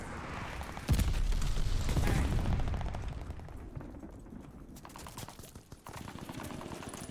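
Gunfire in an online shooter video game: a loud burst of rapid automatic shots and booms up close, fading into scattered distant fire and rumbling battle noise.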